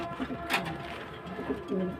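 A racing pigeon coos softly in low, throaty bursts, close by, with a brief rustle partway through and quiet background noise.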